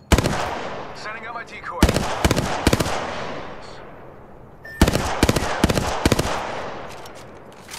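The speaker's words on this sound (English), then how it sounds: "Getting shot at." Bursts of rapid automatic gunfire from Apex Legends, loud and close, arriving in several clustered volleys with brief pauses, while a voice speaks briefly over the shooting.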